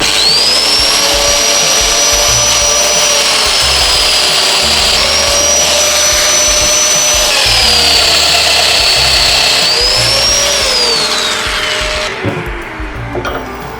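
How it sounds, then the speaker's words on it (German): A dowel router mills joint holes into solid wood, its loud high motor whine running continuously with small pitch dips as it cuts, then spinning down near the end. "Jetzt fräse ich mir hier diese 2 Verbindungen rein"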